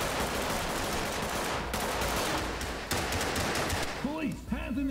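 Sustained bursts of rapid gunfire rattle through a tactical shooter video game match in Ready or Not, dense and continuous, with a voice briefly speaking near the end.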